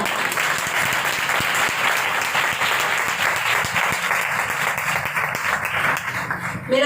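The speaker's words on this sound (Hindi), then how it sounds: "यीशु मसीह के नाम में जोरदार ताली।" A church congregation clapping loudly in unison, dense and sustained applause filling the hall for the full stretch, with no speech over it.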